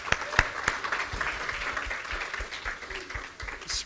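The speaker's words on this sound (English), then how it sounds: "Let's give Jesse a round of applause." Church audience at a mission trip testimony service applauding with steady, dense clapping for about four seconds, a few sharp claps standing out near the front.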